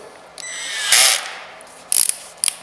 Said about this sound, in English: we want to first put the bit inside the drill